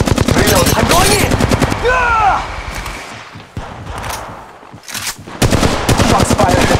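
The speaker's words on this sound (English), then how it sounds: "They're shooting at me. Shots fired at me." Rapid automatic gunfire from an Apex Legends Mobile match, loud and close in dense rattling bursts, easing into a quieter stretch before the heavy firing returns.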